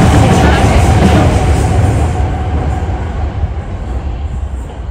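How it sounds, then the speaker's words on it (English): A train passing close by outdoors, a loud steady rumbling roar that slowly fades over several seconds, with no voices over it. "I'm hoping we've got all the trains out of the way now"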